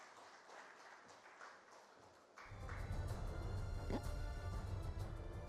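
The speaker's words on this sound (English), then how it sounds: "Can we please have a huge round of applause for him?" Applause from an audience at an academic event after a speech, fairly faint and distant at first, then growing louder and fuller halfway through as more hands join in a sustained patter.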